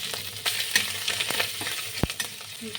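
Whole cumin, asafoetida and freshly grated ginger frying in hot ghee, crackling and sizzling up close while a spoon stirs them, with a sharp clack partway through.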